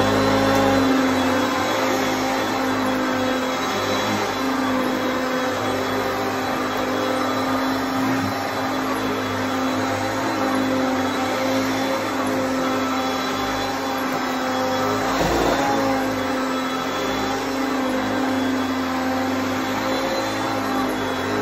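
A 1982 Hoover Concept commercial upright vacuum cleaner runs continuously across carpet, a loud steady motor whine with a constant hum and faint shifts as it is pushed back and forth, with no voices.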